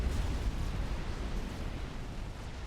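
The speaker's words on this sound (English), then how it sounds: "targeting a chain reaction takes out the nuke launcher as well" A chain-reaction explosion tearing through a nuke launcher in the real-time strategy game Supreme Commander: Forged Alliance, heard as a dense, continuous roar of loud, booming detonation that holds steady throughout.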